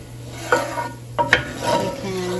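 Garlic and red pepper flakes sautéing in a pan, a soft steady sizzle with a few utensil scrapes and taps of stirring, close by and without talk.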